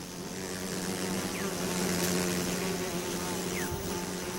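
A colony of bees gathering pollen and nectar hums with a steady, low, droning buzz, continuous and even throughout, with faint higher whines from individual insects passing near.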